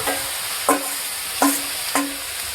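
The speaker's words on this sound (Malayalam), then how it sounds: "അപ്പോൾ അതിലേക്ക് നമ്മുടെ ചിക്കൻ ആഡ് ചെയ്ത് കൊടുക്കുകയാണ്." Chicken pieces being stirred into a hot pan for a South Indian chicken varuval, giving three distinct scraping stirs over a steady background sizzle, close and moderately loud, with no voices.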